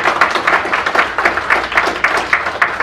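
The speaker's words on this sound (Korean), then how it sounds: "박수를 한번 더 보내주시기 바랍니다" An audience at a Korean forum in New York applauds with a dense wash of clapping, loud and steady, with sharper individual claps standing out throughout.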